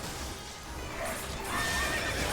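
A horse in a video game lets out a whinny and neigh over steady game ambience, with a brief clatter of hooves, the call swelling louder toward the end.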